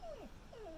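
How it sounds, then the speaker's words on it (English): A quiet, high dog whine rising and falling in two short bends, close by with no talking. "that's my dog whining"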